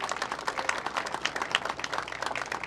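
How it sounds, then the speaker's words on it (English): A crowd applauding the Premier of Ontario at a political event in Brampton, with brisk, dense clapping and no pauses throughout, fairly loud and close. "Can I get a round of applause for the Premier"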